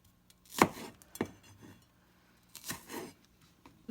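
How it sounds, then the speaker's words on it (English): A large vegetable head is sliced in half with a kitchen knife, giving a few distinct chopping strikes spaced over a few seconds, close and fairly quiet, with no talking. "I'm cutting it because the head is big,"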